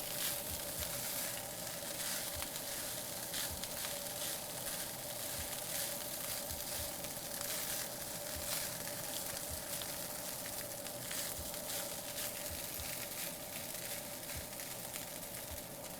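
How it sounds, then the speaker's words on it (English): Pineapple fried rice sizzles steadily in a pan, a constant crackling hiss with small pops from stirring, close and alone. "You hear that sizzle, guys? That's what we want."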